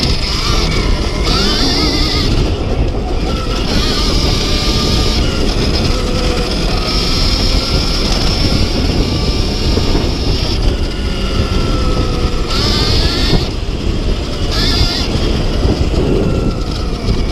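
An Alta Redshift EXR electric dirt bike accelerates along a single track, its loud motor whine rising and falling over heavy wind rush and rough terrain noise.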